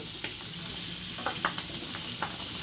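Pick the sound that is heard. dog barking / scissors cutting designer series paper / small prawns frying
small prawns frying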